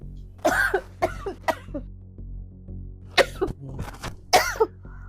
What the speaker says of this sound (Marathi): अशीच खोकत